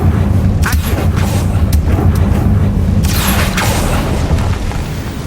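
A Confringo fire spell explodes in the Hogwarts Legacy video game, a loud, dense booming rumble sustained for several seconds with sharp crackling bursts layered on top, no voices.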